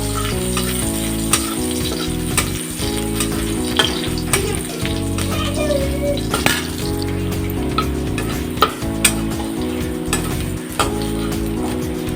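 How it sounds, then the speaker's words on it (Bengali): Loud, continuous sizzling of garlic frying in hot oil, with occasional sharp ticks and clinks of a utensil stirring the pan. "রসুনটাকে ভালো করে লাল লাল করে ভেজে নিতে হবে"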